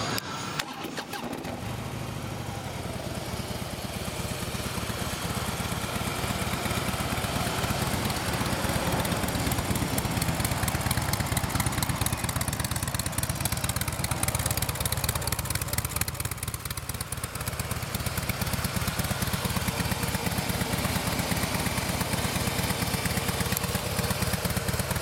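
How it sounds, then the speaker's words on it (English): Harley-Davidson Softail Breakout FXSB motorcycle, 3,374 miles, starting up and then idling with a steady, loud, throbbing rumble recorded close by for the full stretch, with no one talking over it. "Revs up nice and clean, engine's quiet."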